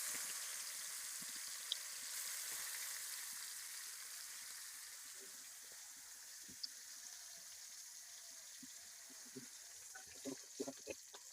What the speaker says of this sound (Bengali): সবগুলা মাছ এইভাবে আমি ভাজিয়ে নেবো।